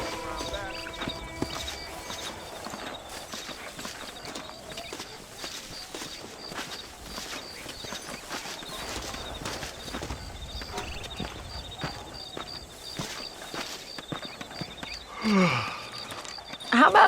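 Horse hooves clop steadily under a ridden horse in the Western video game Red Dead Redemption, a continuous rhythmic patter under game ambience, with a short rising vocal-like sound near the end.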